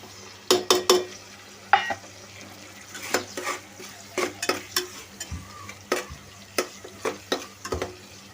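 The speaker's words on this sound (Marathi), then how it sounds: "आता आपण टमाटर टाकू। टमाटर हलवून घेऊ।" Tomatoes stirred into onions frying in a pan for pulao, with a steady sizzle under a run of sharp spoon scrapes and clanks against the pan, spaced fairly evenly and close by.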